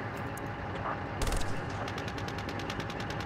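Gunfire in a military video game crackles in the distance. A rapid burst of automatic shots is followed by a steady run of evenly spaced shots, with dense background noise underneath.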